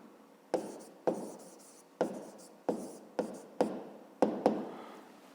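Pen or pencil writes by hand on paper during a fifth-grade math lesson, with about nine crisp scratching strokes in quick bursts, close and fairly quiet, and no talk over them.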